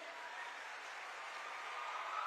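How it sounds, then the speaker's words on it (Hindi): Strong applause from a large crowd at a cultural event in Dehradun, a dense, even wash of clapping that holds steady and swells slightly toward the end, heard from some distance. "जोरदार तालियां बजती रहें।"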